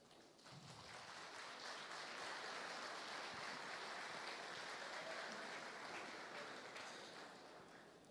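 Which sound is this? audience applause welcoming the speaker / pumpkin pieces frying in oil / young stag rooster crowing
audience applause welcoming the speaker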